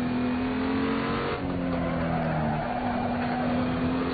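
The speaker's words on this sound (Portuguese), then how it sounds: "Fazer um driftzinho aqui pra ir mais rápido." A race car drifting in the racing game Assetto Corsa, its engine droning loud and continuous with a steady high whine, a brief dip partway through, then a sustained tire-sliding roar.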